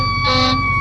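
A fire truck siren wails loud and close in traffic, a steady tonal blare with a brighter swell partway through, heard alone over a low vehicle rumble.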